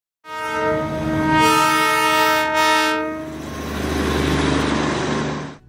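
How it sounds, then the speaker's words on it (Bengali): The Darjeeling toy train sounds its whistle at Batasia Loop: one loud, close, sustained blast lasting about five seconds, then a rumbling railway noise as it fades. No voices. "তাই এখানে এলে সবসময় টয় ট্রেনের বাঁশির শব্দ শুনতে পাবেন।"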